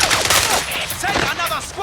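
Rapid bursts of gunfire from James Bond 007: Blood Stone, a PC shooter, crackle loudly and continuously, overlapping into a dense fusillade with faint shouted voices mixed in.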